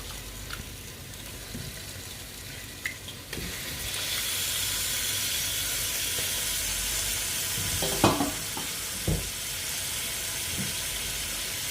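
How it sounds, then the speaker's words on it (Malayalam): Chicken added to gravy gives a continuous frying sizzle that grows louder after a few seconds, with occasional stirring clinks and scrapes throughout. "ചിക്കൻ ഇങ്ങനെ നമുക്ക് ഗ്രേവിയിലേക്ക് ഇട്ട് കൊടുക്കാം."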